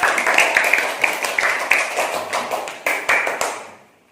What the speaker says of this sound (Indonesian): Kasih tepuk tangan buat kelompok 2.